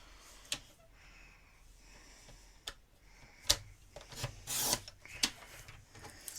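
Paper trimmer blade cutting cardstock for a handmade birthday easel card, heard as a few sharp ticks and one short rasping slide near the middle, close and fairly quiet, with no talking.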